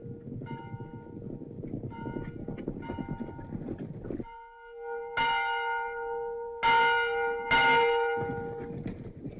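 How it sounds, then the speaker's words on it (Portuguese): A bell rings out in an Old West frontier town, three loud clanging strikes with long resonant decay, following a few seconds of rumbling clatter. "Bata o sino, vamos."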